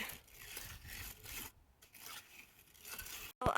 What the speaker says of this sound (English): You want to tamp on top then with the trowel, and that gets it nice and flat.